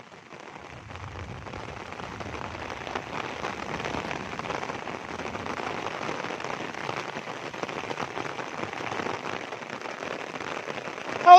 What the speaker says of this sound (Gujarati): ગાજવીજ સાથે તો વરસાદ વરસે અટાણે